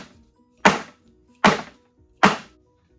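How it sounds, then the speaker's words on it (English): A bundt pan filled with cherry 7UP pound cake batter is knocked against a counter to release air bubbles, giving three solid, evenly spaced thunks with brief decays and quiet between them. "now I'm going to shake it and bang it"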